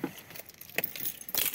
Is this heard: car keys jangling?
yes